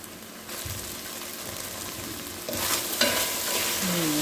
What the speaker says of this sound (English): Let me allow this to brown a little bit.